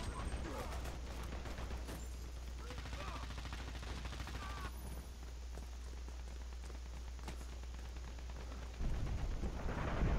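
Rapid gunfire crackles in the shooter game Dirty Bomb, with dense bursts of automatic shots rattling throughout over a low steady hum, and a player talking at times.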